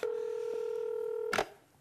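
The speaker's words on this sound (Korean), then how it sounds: "너 본사에 전화해볼게" Telephone keypad tones from a call placed to a company head office during a Korean comedy sketch: one steady dialing tone held for over a second, close and clear, then cut off by a short clatter.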